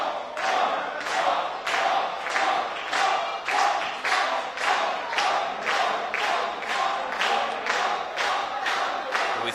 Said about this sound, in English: And this crowd offering their support.